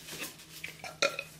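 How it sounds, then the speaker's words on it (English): A person burps softly a few times, close up in a quiet room, short throaty bursts with faint handling noise around them. "I'm burping all over the place."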